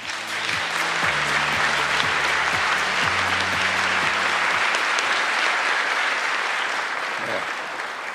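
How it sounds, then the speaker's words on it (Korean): Loud, sustained applause from a large crowd fills the space, steady clapping that begins to fade slightly near the end, with low tones underneath. "큰 박수 부탁드립니다"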